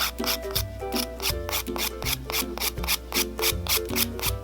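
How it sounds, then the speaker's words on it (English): A kit nail file rasps back and forth over dip powder nails, bulking down and smoothing the surface in quick, even, rhythmic strokes, close and steady. "I'm gonna go ahead and just file down the bulk and smooth out the surface with the files that they provided in their kit"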